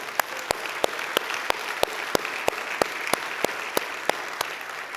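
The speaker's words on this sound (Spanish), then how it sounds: "Dale un fuerte aplauso al Señor si se lo vas a dar." A church congregation applauds the Lord during a sermon, the sound dominated by sharp, evenly spaced claps, about three per second, standing out clearly over a softer bed of crowd noise.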